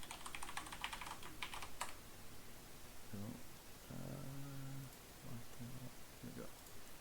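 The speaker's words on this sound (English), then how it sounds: "I'm having a hard time typing my password" Keyboard typing on a computer, a burst of quick key clicks early on, then quieter tapping beneath a man's speech in a room with steady background hiss.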